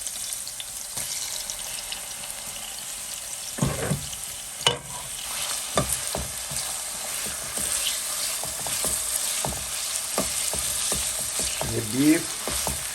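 Marinated beef for a Chinese black pepper beef stir fry hisses continuously in a hot pan, with a few sharp clatters and stirring knocks over the steady sizzle.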